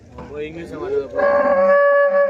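At a large cow market in Chintamani, Karnataka, a cow lets out a loud, close, drawn-out moo that rises and holds, following brief murmuring voices.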